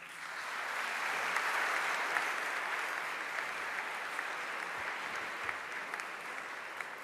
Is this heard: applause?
yes